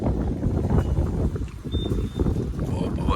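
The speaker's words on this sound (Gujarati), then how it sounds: "પવન છે." Outdoor wind buffets the microphone in loud, gusty low rumbles that rise and dip through the stretch, with voices faintly mixed in.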